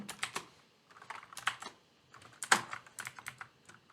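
Rapid typing on a computer keyboard, uneven bursts of clicky keystrokes with brief pauses between runs, close and fairly quiet.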